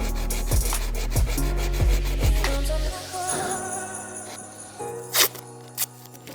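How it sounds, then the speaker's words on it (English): A resin-coated Subaru Impreza headlight is hand-sanded in a few quick rubbing strokes, followed by lighter scraping and small handling sounds, close by and fairly quiet. "I'm going to sand back to that tape edge."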